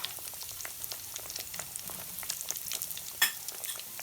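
Eggplant cooking in a frying pan filled right up, giving a steady close crackling sizzle with scattered pops and one sharper clatter, and no talk.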